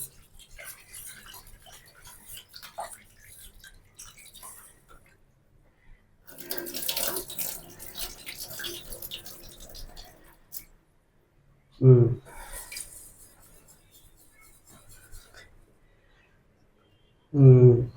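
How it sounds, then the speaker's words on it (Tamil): Kitchen tap water running into a vessel while rice is rinsed, a steady splashing flow that stops and starts in stretches, with brief louder clatters and someone talking in between. "இப்போ நான் 3 வாட்டி சாதத்தை களைஞ்சிட்டேன்"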